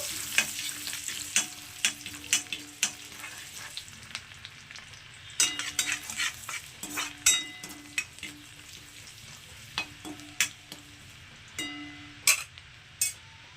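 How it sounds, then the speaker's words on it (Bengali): Chopped garlic frying lightly in oil gives a soft, steady sizzle, punctuated by repeated metallic clinks and scrapes from a spatula stirring in the pan. "রসুন কুচিটাকে দিয়ে দেবো তারপর রসুনটাকে একটু হালকা ভেজে নেব"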